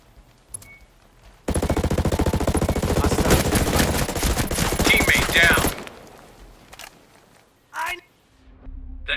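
Automatic gunfire erupts in the tactical shooter Ghost Recon Breakpoint, a dense, loud burst of rapid shots lasting about four seconds, set between quieter stretches and brief game effects.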